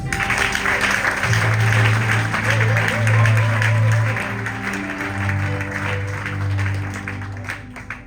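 Audience applause at an evangelism campaign gathering, steady and sustained throughout, with a sustained musical or organ-like tone underneath.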